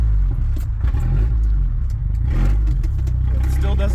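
Ford Ranger pickup engine revving hard with the throttle floored after a rough idle, a loud low growl filling the clip with a swell midway, with talk faintly over it.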